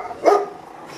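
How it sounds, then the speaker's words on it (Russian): A single short bark from a black dog rings out at moderate distance, followed by quiet background. "Черный пес."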